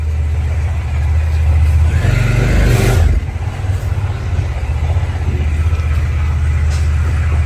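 A motorbike engine revs up nearby and pulls away as the rider sets off from a house, a loud low rumble that swells around the middle and then settles into a steady fading drone.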